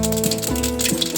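Mustard and cumin seeds crackle and pop in hot oil for batata poha, a dense, rattling spatter heard up close over background music.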